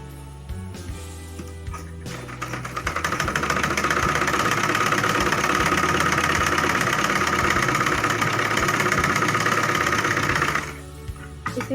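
A sewing machine double-stitches a high neck blouse, running in one continuous, fast, even whir for about eight seconds before stopping, with quieter handling sounds before and after.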